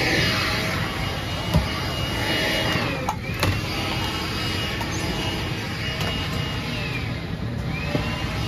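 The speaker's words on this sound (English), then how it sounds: "Conditioner is blowing full blast." Air conditioning aboard an airplane cabin blows at full blast, a steady broadband whoosh of rushing air layered over the low engine drone, with occasional small clicks and rustles.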